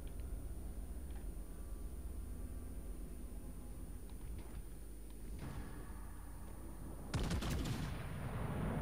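Naval guns firing in the video game World of Warships Legends, a steady rumbling background of battle with scattered distant shots and a louder blast near the end.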